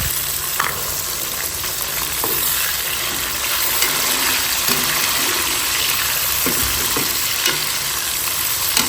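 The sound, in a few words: tomatoes added to browned onions frying in a pan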